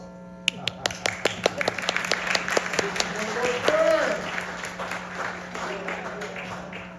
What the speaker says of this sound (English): sometimes that does get the applause